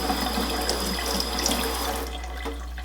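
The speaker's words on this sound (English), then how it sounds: "And then I'm just going to rinse my little tray out." Tap water runs steadily into a sink while a small makeup brush tray is rinsed beneath it, a close, continuous splashing that softens slightly toward the end.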